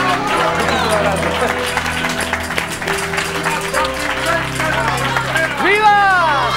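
A studio audience applauds on a Spanish television talk show, its clapping blended with music and excited voices from the set.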